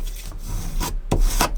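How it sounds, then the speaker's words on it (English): Folded card paper being burnished flat for a column card, a few short dry rubbing strokes, close and fairly loud, with brief scraping swipes separated by pauses. "let's make sure to burnish these so it'll sit nicely"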